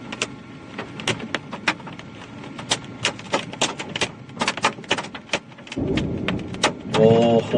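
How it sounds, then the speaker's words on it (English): Hailstones pelting down during an Iowa supercell thunderstorm, heard as a stream of sharp, irregular clicks and taps against surfaces, growing denser toward the end. "Ooh, the hailstones are coming down."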